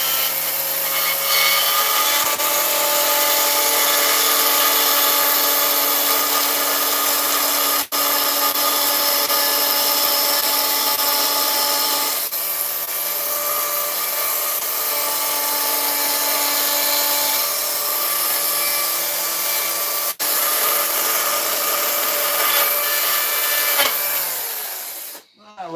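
Battery chainsaw carving a horse head from a block of wood, with a loud, continuous whine for nearly the whole stretch, shifting slightly in pitch as the chain bites, then cutting off at the end.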